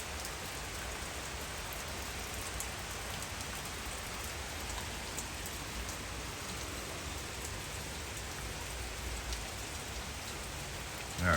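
Steady rain shower pouring down in Aylsham, Kingston, Jamaica, a dense even hiss of drops on surfaces that holds constant throughout with no voices.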